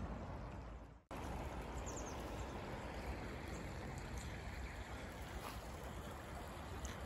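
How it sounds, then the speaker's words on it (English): A river current flows steadily through Anston Stones Wood, a soft, continuous wash of water after a brief cut at the start, faint and even throughout with no voices. "that sound, that constant sound of the current"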